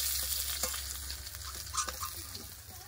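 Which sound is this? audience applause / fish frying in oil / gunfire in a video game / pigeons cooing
fish frying in oil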